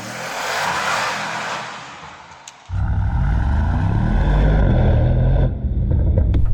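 Mercedes-AMG GT e-Performance pulling away hard, a wind-and-road roar giving way to a loud, steady synthetic V8 drone with rising harmonic tones, heard from inside the car.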